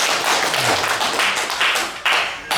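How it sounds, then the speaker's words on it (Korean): A church congregation bursts into warm applause, a dense, steady patter of many hands clapping close by that dips briefly near the end and then swells again. "우리 찬양대회 다시 한번 뜨겁게 박수하겠습니다."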